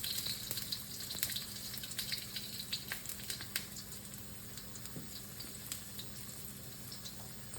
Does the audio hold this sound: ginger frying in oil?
yes